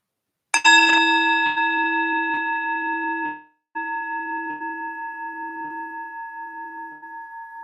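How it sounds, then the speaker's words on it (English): A meditation bell is struck, rings out with a long shimmering decay, then is struck a second time about three seconds later and keeps humming. It is clear and close, with no talk. "Use this bell to come back to your breath"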